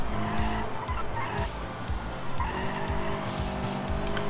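Race car driven hard around the Nordschleife in BeamNG with a five-speed manual gearbox, engine droning loud and steady with shifting tones while tires squeal and skid continuously throughout.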